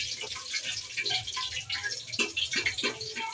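A steady hiss and crackle of a little leftover water sizzling in a hot pressure cooker, continuous and fairly close, with small popping bursts throughout.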